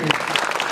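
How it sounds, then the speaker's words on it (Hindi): Brief burst of audience clapping at a stage play performance during cast introductions, a dense steady patter with a voice talking over it. "तालियां बजाते रहिए"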